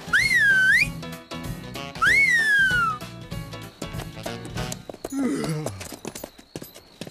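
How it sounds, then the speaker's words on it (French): A loud, close whistle in a Lucky Luke cartoon, two rising and falling swooping notes, mixed with clip-clopping hooves and a short horse-like whinny near the end. "J'aurais dû m'attendre à ce qu'il me siffle au beau milieu de la nuit."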